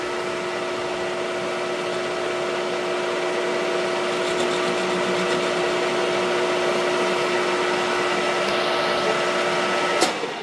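A metal lathe runs steadily while cleaning up a turned part for a tachometer mount, giving a constant motor hum with a faint cutting hiss and a small clink near the end.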